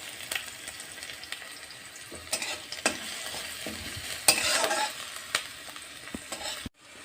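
A crunchy snack mixture frying in a pan over medium heat, an even sizzle broken by scraping stir strokes and a louder spell of crackling midway, cut off abruptly just before the end.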